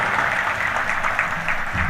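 Loud, sustained applause from a large crowd at a Hindu religious gathering in Rajasthan, dense clapping running unbroken and evenly throughout.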